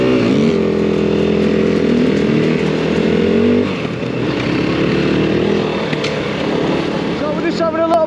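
A Fantic XEF 250 dirt bike with an upgraded Hogan rear shock rides a warm-up loop at Parkwood Outdoors, its engine buzzing loud and near with a steady drone, then shifting pitch and roughening midway.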